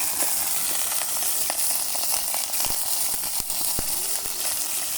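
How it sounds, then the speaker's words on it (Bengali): Chicken meat fries lightly in oil in a kadai with a loud, continuous hiss and crackle, close up, marked by a few sharp pops and stirring knocks. "এখন মুরগির মাংসগুলো হালকা করে ভেজে নেব।"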